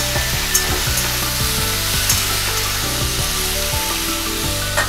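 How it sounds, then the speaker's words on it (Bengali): Vegetables fry in a covered pan, giving a constant close sizzle over a low rhythmic hum. Faint clicks are heard now and then, with no talking. "সবজিগুলোকে আমি একটুখানি চাপা দিয়ে ভেজে নেব।"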